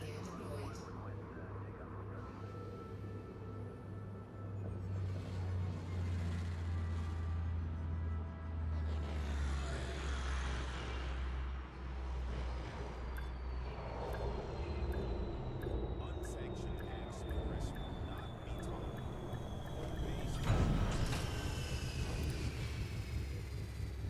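A video game spaceship lands, with a low steady rumble and engine drone building over many seconds. A soft mechanical whine and swelling thrust noise come near the end, and a voice speaks now and then.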